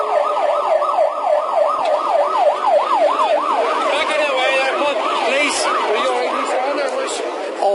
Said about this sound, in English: Suddenly we heard sirens, ambulances.